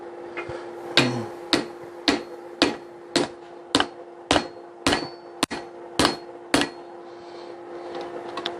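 A railroad spike being forged into a tomahawk is hammered over the edge of an anvil: about ten evenly spaced, ringing metallic blows, close and sharp, with a steady hum underneath.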